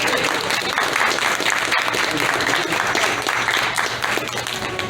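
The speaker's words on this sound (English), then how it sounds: "Can we get a round of applause for our actors?" Audience applause for actors at a live Stone Mountain snow show, a steady, loud wash of clapping and crowd noise filling the whole stretch without a break.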